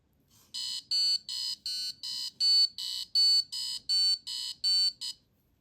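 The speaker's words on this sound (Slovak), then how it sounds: "Po detekcii ospalosti zaznieva zvukový signál a objaví sa červená obrazovka." A driver drowsiness detector sounds its alarm: a loud, high-pitched electronic beep repeated in about a dozen even, evenly spaced pulses, alone with no other sound.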